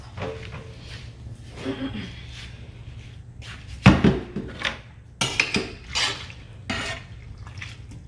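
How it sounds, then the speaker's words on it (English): Cooked fettuccine noodles are drained into a strainer in a kitchen, with splashing water, drips and the clatter of pots and metal, arriving in irregular close bursts. "So next we're going to strain our noodles."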